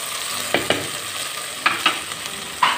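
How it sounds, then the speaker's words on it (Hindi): Okra fries with salt in a pan, a soft steady sizzle broken by several distinct scraping clinks from a spoon stirring against the metal, close and without talk. "भिंडी को हमने अच्छे से फ्राई किया नमक डाला"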